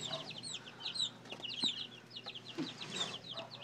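Chickens cluck and chirp in quick, overlapping bursts while pecking at moths, a busy, fairly close flock chatter running steadily throughout.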